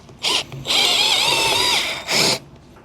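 A power drill with a small masonry bit bores a hole while building an outdoor kitchen. There is a short whine first, then a longer steady drilling run, then another brief burst, all loud and close.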